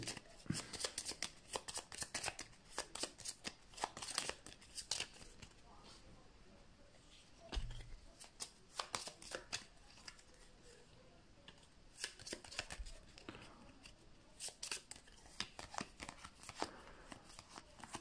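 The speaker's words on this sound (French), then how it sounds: "On reprend toutes les cartes combat. On mélange tout." A deck of combat cards for a board game being shuffled, quiet rapid riffles and card slaps repeating in bursts, with soft talk now and then.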